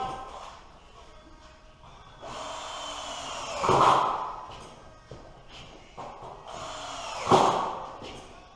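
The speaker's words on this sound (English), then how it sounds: "I'm now drilling some track." A power drill bores into metal stud track for a metal studwork wall, with two short, harsh, loud bursts separated by shuffling and handling noise nearby.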